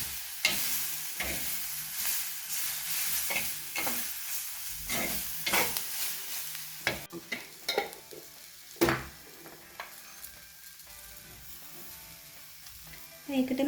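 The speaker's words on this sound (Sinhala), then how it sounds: "දැන් මම මේකට බැදගත්ත වම්බටු ටිකත් එකතු කර ගන්නවා." Fried brinjal going into a pan for Sri Lankan brinjal moju and being stirred, with scraping spoon strokes and soft sizzling, moderately quiet and irregular, no talking.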